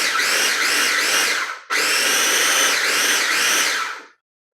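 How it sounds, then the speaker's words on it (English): A small blender pulses pizza sauce in two loud, whirring bursts with a brief stop between, the motor pitch wavering as the contents churn, then cutting off. "assuming you can get your little blender guy here to cooperate with you"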